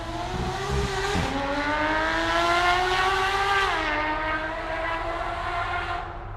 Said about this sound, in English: I think his exhaust may be non-standard.